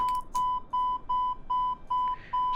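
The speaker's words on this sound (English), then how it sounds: "right now, an alarm's going off" A cockpit alarm sounding in Flight Simulator 2020 on a flight from JFK to Toronto, a steady repeating electronic beep pulsing about twice a second, clear and alone.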